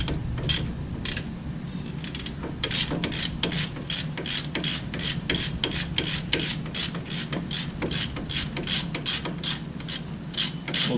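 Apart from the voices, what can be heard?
18mm ratchet snugging wheel studs on 2014 Ford Explorer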